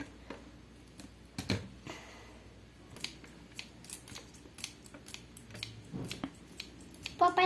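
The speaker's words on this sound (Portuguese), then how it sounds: "Deixa eu cortar o cabelinho careca." Scissors snipping modeling clay hair in a pretend barbershop, a series of sharp close clicks and snips spaced irregularly, fairly quiet with a little handling noise between cuts.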